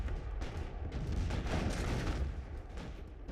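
Gunfire and artillery at the stone-lion bridge of Lugou on the night of 7 July 1937, a dense, continuous rumbling barrage of booms and shots with no clear gaps.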